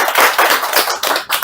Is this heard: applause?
yes